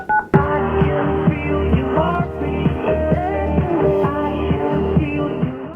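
A sharp click, then a steady run of telephone dialing tones with a repeating pulsing pattern, loud and without talking.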